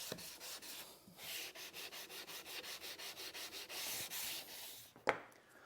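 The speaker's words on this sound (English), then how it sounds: "So I always like to finish up by using a hand sander." Rhythmic back-and-forth rasping of sandpaper on a wooden tool cart, sanded by hand along the grain, steady strokes repeating close up, ending with a sharp knock.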